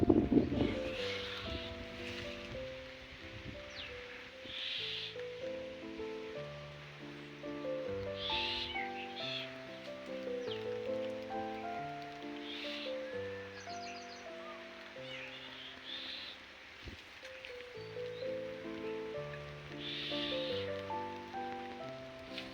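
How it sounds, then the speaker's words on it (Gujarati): Rain falls outdoors on a farm as a soft, continuous patter. Faint tonal music runs throughout underneath it. "વરસાદ ચાલુ થઈ ગયો અને તમને પણ વરસાદ બતાવી દઉં"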